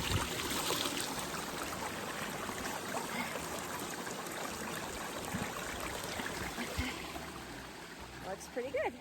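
A water bottle being filled from a stream, with steady broadband running and gurgling water close by throughout and no talking.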